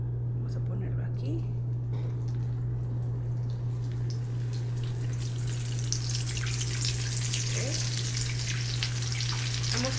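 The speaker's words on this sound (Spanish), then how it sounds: "ya vamos a empezar a dorar nuestros rollitos" Cheese and spinach taquitos frying in a pan give a continuous close sizzle that grows brighter as more rolls go in, under a steady low hum, with a voice talking throughout.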